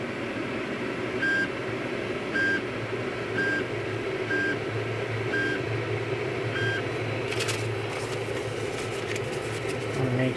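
Ender 3 3D printer control menu beeping six times at about one-second intervals over a steady fan hum, followed by brief clicking as the Z axis is moved by one millimetre.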